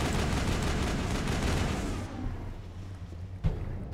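Gunfire during a combat encounter in the video game Mass Effect 1, a dense, loud roar of shots for the first two seconds, then quieter rumble and a single sharper report near the end.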